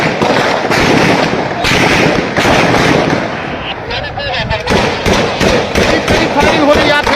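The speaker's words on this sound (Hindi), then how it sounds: "शदीद किस्म की फायरिंग हो रही है।" Heavy gunfire crackles in dense, rapid bursts during a clash between two groups at a town square, the shots loud and continuous with shouting voices mixed in throughout.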